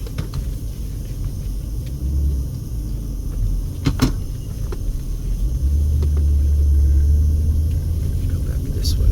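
Car driving along Marlin Avenue in East Las Vegas and swinging through a U-turn, a low road rumble and engine hum that swells toward the end, with a few light knocks and clicks inside the cabin.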